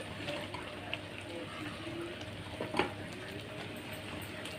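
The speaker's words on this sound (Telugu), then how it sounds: "చూసారు, ఉడుకుతుంది, బాగా ఉడకాలండి" Jaggery syrup for peanut chikki simmering in a pan, a soft steady bubbling hiss with a brief sharper pop near the end, faint and close.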